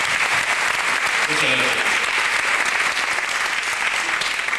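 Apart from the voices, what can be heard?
audience applause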